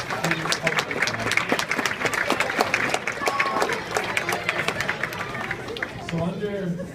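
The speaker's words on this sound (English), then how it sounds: "give him a round of applause." A basketball banquet audience applauds a player's father, sharp separate claps from a modest crowd mixed with chatter and voices, steady throughout before a speaker talks again near the end.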